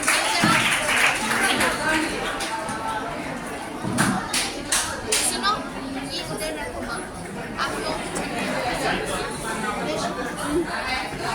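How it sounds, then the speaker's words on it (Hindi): An audience at a college fresher's party applauds, with scattered clapping and crowd chatter filling a hall at a steady, moderate level, along with some thumps and overlapping voices. "तो आइए जोरदार तालियों के साथ रोजा एंड टीम को दावत करते हैं"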